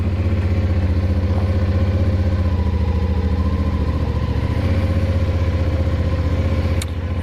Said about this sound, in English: I love the sound of the 450 SS.